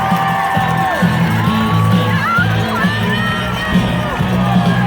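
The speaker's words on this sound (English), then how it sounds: "Let's cheer them home." A large, loud crowd cheers runners finishing the Boston Marathon on Boylston Street, with continuous roaring, whoops and high shouts from many people, nearby and sustained throughout.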